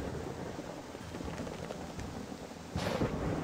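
Thunder rumbles in the WolfQuest 3 video game over a steady rain hiss, a low rolling roar that swells louder near the end.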